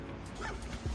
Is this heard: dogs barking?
yes